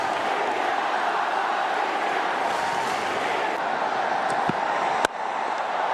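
A cricket stadium crowd at Wankhede roars after a wicket in a T20 match, a broad sustained wash of cheering at steady loudness, distant and unbroken, with a few sharp knocks near the end.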